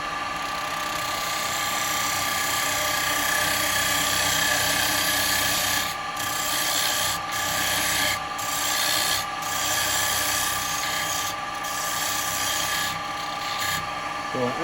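Wood spins on a lathe while a turning tool cuts into it, a continuous close scraping hiss over a steady motor hum, broken several times by brief dips as the tool lifts away and touches back down.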